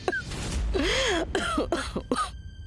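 A grandmother coughs several times in quick succession, hoarse and close, each burst short and harsh with throat-clearing sounds, alone in a quiet room.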